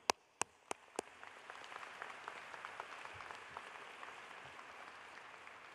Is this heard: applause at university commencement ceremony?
yes